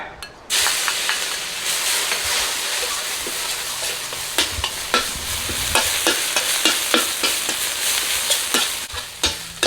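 Pounded spice paste stir-fried in pork lard for a Thai cumin-leaf fish dish, a loud, continuous hissing sizzle with a rhythmic series of spatula scrapes and taps against the pan, no voices.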